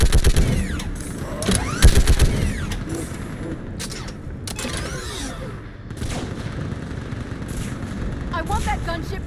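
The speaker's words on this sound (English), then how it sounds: "Keep firing!" Sustained gunfire in a Mass Effect 3 battle on Thessia, bursts of rapid shots with heavy booms and mechanical clatter, loud and close, with shouted voices in the fight.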